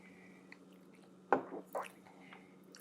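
A close, quiet sip of Henry McKenna 10 year bourbon, a short slurp followed by a second wet mouth sound, over a faint steady background hum.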